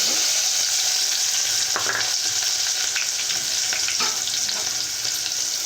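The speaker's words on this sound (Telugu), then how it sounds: "ఎండు మిర్చి వెల్లుల్లి వేసానండి కొద్దిసేపు వేగాక ఉల్లిపాయ ముక్కలు చేసి వేస్తున్నాం" Onion pieces fry in hot oil with dried red chilies and garlic, a loud, steady sizzle filling the whole stretch, with a few scraping stirs of a spoon breaking through.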